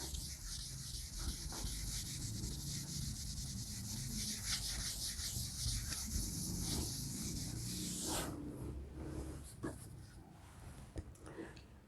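An eraser rubs writing off a classroom board in quick, continuous scrubbing strokes, close and fairly loud, for about eight seconds, then stops and leaves a few faint knocks and scuffs.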